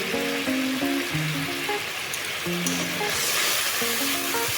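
Spices with turmeric and salt frying in oil for a mixed fish curry, a steady close sizzle running throughout, with faint background music tones underneath.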